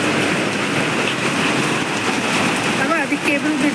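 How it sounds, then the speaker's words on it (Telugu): Heavy monsoon rain pouring over Hyderabad in the morning, a dense, even hiss of water that fills every moment, with a faint voice surfacing briefly near the end. "చాలా పడుతుంది వర్షం."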